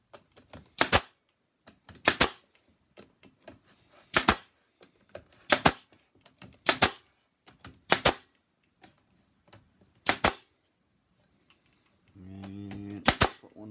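A brad nailer drives 1.5 inch brads into wood, with about eight loud, sharp pneumatic snaps spaced a second or more apart and light handling clicks between them, followed by a brief stretch of talking near the end.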